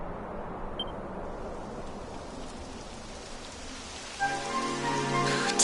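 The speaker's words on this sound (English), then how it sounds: "It would have to go and start raining, wouldn't it?" Rain begins falling in the video game Dragon Quest XI, a steady hiss of drops on surfaces, joined near the end by a louder, denser patter and faint rumbling tones.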